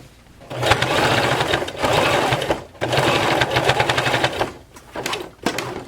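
Sewing machine back stitching and then running along folded fabric pleats for a fabric rose, fast rhythmic needle clatter in several bursts with brief stops between them.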